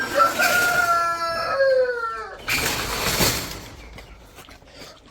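A rooster crows loudly and close by, its call stretching over the first two seconds, then chickens cluck and squawk around it in a farmyard, with no talk over the birds.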